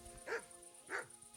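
A dog in the medieval game Kingdom Come: Deliverance II gives two quick, faint barks about half a second apart.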